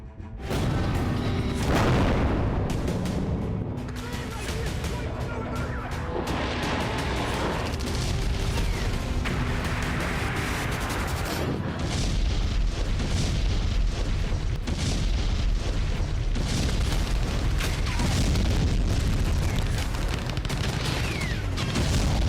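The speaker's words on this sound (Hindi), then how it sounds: "अफगानिस्तान की धरती पर हर तरफ बेहिसाब बम बरस रहे हैं।" Bombs exploding in Afghanistan: loud, dense rumbling blasts and crackling bursts of gunfire roll on continuously, with heavier booms in the second half.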